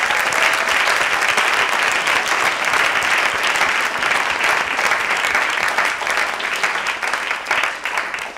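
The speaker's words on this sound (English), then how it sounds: "let's give them another round of applause" Sustained, dense audience applause for a group of dancers, loud and steady throughout with no talk, tapering slightly near the end.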